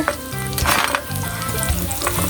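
Baguio beans go into leftover frying oil and are stirred, making a loud, continuous sizzle with brief scraping bursts as the pan is worked.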